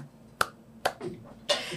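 Three sharp hand claps spaced roughly half a second apart, close and dry, imitating Will Smith's joyful clapping from The Pursuit of Happyness, with no talking over them.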